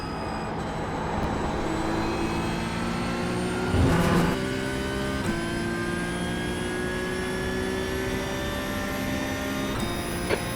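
A Porsche 911 GT3 Cup 992.1 in iRacing lapping Watkins Glen, its engine droning steadily at high revs with rising gear pulls and a brief shift burst midway, loud and continuous with no talk.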